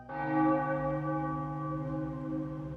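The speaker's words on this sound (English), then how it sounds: "you could hear the church bell ringing out across the water" A church bell rings once with a rich, ringing strike that hangs in a long, steady hum, heard alone and moderately distant as if across still water.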